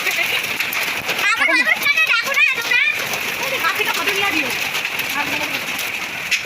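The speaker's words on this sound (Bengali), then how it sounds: "এই দেখো কত বড় বড় শিল এই যে দেখো এই যে আরও পড়ছে" Steady hard patter of large hailstones and rain hitting surfaces nearby in a storm, with a person talking over the downpour.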